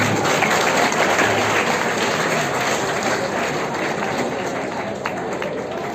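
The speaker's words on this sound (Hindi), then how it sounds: "ताली" Sustained audience applause fills a hall at a district youth conference, dense steady clapping from a large crowd with a few voices mixed in.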